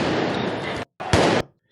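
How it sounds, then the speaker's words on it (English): Fireworks bursting during street protests in Paris, heard as loud, dense broadband crackling and booming that fills the clip, breaks off briefly, then returns in a second strong blast before stopping. "Here are some more crazy scenes with the fireworks."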